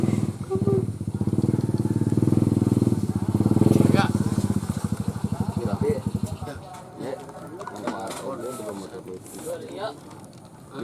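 A motorcycle engine runs close by with a steady, loud puttering for several seconds, then drops away into a quieter idle while people talk over it.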